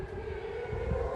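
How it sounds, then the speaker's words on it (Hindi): A steady, droning air raid siren wails in the distance over Tel Aviv during an Iranian missile attack, holding a fairly constant tone over a low background rumble. "सायरन, सायरन आप सुन सकते हैं।"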